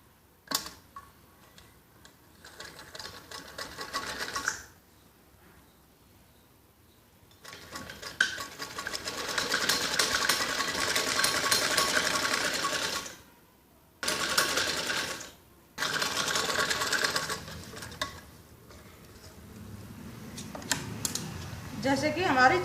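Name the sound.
sewing machine stitching piping on kids' top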